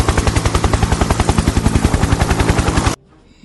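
Helicopter rotor thudding in a fast, steady, loud pulse close by, then cutting off abruptly near the end, leaving only faint background.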